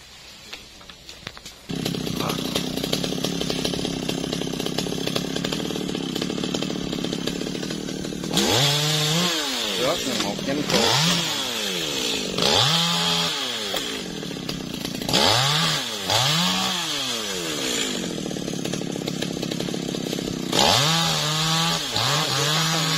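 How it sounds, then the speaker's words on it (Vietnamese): A chainsaw cuts branches from a large melaleuca tree. The motor idles, then revs hard and drops again in repeated loud cutting bursts, close by, with no talk. "Giờ chú mở dây ở trong cái máy cưa ra,"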